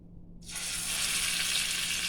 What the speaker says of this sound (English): I'm going to add my meat in small pieces.